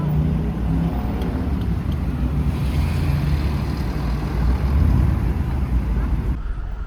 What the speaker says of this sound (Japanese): もうこの橋とかも渋滞だし、あっち側もかなり渋滞してます。